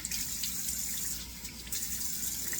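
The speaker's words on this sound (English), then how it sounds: "I'm going to run cold water here out of the sink" Cold water runs from a bathroom sink tap in a steady close gush, with faint splashing as water is scooped onto a face before a razor shave, no speech.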